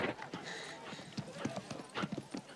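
Horse hooves clip-clop in a steady rhythm in a scene from the 1992 film Far and Away, with voices talking over the hoofbeats.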